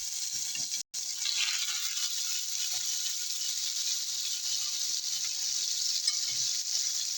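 Mushrooms fry in a pan with a steady, bright hiss of sizzling fat, continuous and close, broken only by a brief cut near the start.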